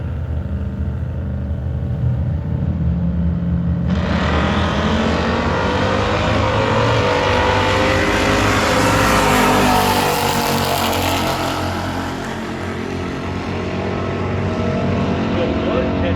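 A 1966 Chevelle and a 1968 Fairlane at a drag race, engines rumbling at idle before a sudden loud roar about four seconds in as both launch and accelerate hard, sustained and broadband, fading slightly near the end.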